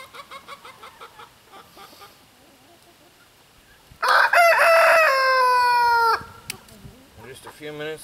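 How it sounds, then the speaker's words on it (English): Free-range chickens cluck in rapid, close bursts, then a rooster lets out one loud, drawn-out crow lasting about two seconds before the clucking resumes. "In just a few minutes, the chickens are going to be free to run, and they will."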